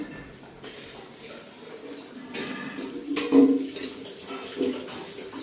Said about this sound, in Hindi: कुछ बर्तन अम्मा भी धो रही हैं